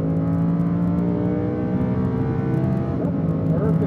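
Lamborghini Huracán pulling hard at full power down a track straight, a steady layered engine roar that shifts slightly near the end, with a voice speaking faintly beneath it.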